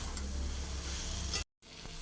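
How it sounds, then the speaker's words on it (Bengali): Pieces of fried ribbonfish being stirred and coated in a spice paste in hot oil in a pan: a steady, close sizzle with stirring scrapes, briefly cut to silence near the end before resuming. "মশলার সাথে ভালোভাবে মাখিয়ে নেব"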